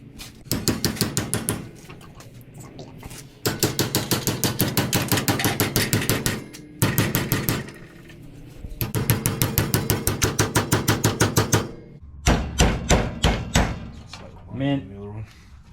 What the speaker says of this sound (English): Now all we gotta do is bash that with a hammer.